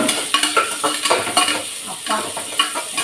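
Sliced onions fry and sizzle in a pan for coconut milk rice, with a steady bright hiss broken by repeated scraping stirs and clinks of a spoon against the pan, close and fairly loud with no talking.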